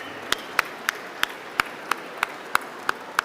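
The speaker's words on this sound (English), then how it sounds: "Let's give a round of applause to President Salva Kiir from South Sudan." Slow, evenly spaced claps at an awards dinner, about ten distinct sharp hand claps in a steady rhythm with quiet room noise between them, as if from a single nearby clapper.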